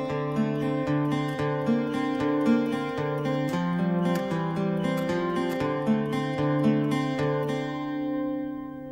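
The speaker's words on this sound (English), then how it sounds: "It's played on the acoustic guitar and goes like this." A clean acoustic guitar plays a repeating fingerpicked riff, notes ringing clearly and steadily, close and solo with no voices.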